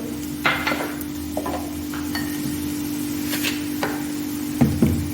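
Butter garlic mushrooms with coriander leaves and salt being mixed in a pan: occasional spatula scrapes and soft clinks against the pan over a steady low hum and light sizzle, with two quick knocks toward the end.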